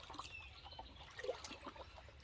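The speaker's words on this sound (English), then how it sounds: "fill it up with some water." Creek water trickling and pouring into a big gold pan at Anderson Creek, Warrandyte, a soft steady gurgle with small splashes, fairly quiet and with no talk.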